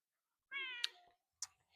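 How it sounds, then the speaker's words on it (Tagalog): A white cat gives one clear, drawn-out meow up close, followed by a short soft chirp and faint clicks in otherwise quiet surroundings. "Itong pusa ko."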